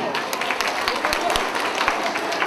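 Applause from a crowd at a school end-of-year celebration in Ciochina, a steady patter of many hands clapping under faint voices throughout the short stretch.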